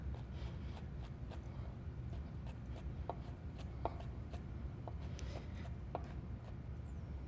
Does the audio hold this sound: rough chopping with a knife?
yes